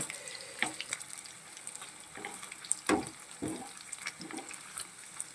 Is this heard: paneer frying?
yes